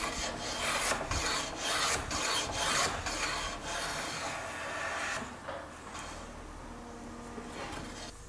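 A Quangcheng No. 62 low angle jack plane is pushed over a wooden board, giving repeated close, loud shaving strokes in a steady rhythm that then settle into a longer continuous rasp.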